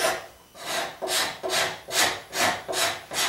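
A card scraper pushed across wood gives rhythmic raspy shaving strokes, about seven evenly spaced passes in quick succession, close and clear with no talking.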